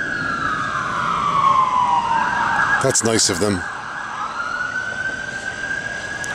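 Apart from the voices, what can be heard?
distant emergency vehicle sirens in town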